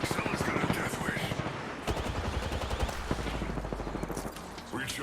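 Rapid bursts of automatic gunfire crackle in the Apex Legends video game, dense and repeated throughout, with a player talking over the shooting.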